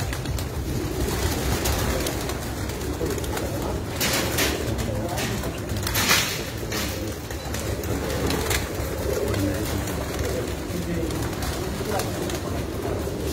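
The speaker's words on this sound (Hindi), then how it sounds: "ये हमारे घर के माशाल्लाह टेढ़ी कबूतर है जी" Tedhi pigeons coo softly amid a noisy, steady background hum on a rooftop in Rajasthan, with a few louder rustling bursts midway and faint voices mixed in.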